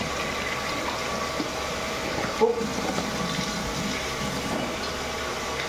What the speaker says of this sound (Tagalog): Kailangan lublog sa tubig.